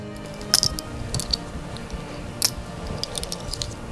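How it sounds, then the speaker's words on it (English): Empty metal bullet casings drop onto the ground for Foley, giving a few sharp metallic clinks and small rattles scattered over four seconds with quiet gaps between. "some empty bullets to make the sound dropping on the ground"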